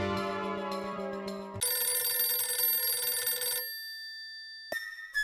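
A landline telephone rings in a domestic sitcom scene, a steady electronic tone that sounds, stops and starts again, loud and close with no voices over it.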